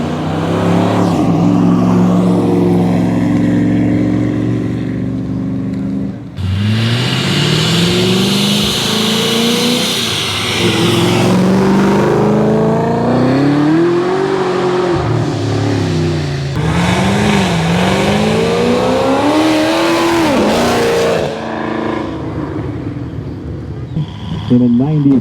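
A Chevrolet Silverado pickup truck's exhaust revs loudly and continuously at a GM Nationals car show at Carlisle Fairgrounds, with rising and falling engine pitch and rough surges, under occasional crowd chatter.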